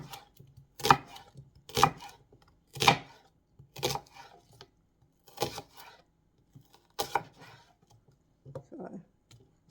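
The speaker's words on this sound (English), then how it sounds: "Just gonna cut the onions." Onions are chopped with a knife for chicken noodle soup: about nine separate sharp cuts in a loose rhythm, close and fairly quiet, with a short faint sound near the end.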